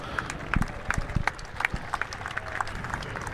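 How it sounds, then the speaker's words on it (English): Golf spectators at St Andrews clap in sparse, scattered bursts during the final morning of The Open, each clap sharp but distant, over a steady outdoor crowd murmur. "Can obviously get some background noise there, clapping"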